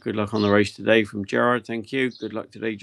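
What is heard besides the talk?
No everyday noise stands out behind the speech.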